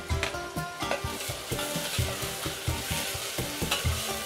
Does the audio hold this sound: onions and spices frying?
yes